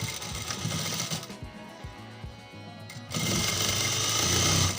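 An electric sewing machine stitches a fitting seam on trousers, with a loud, steady mechanical whirr in two runs separated by a quieter pause with faint clicks.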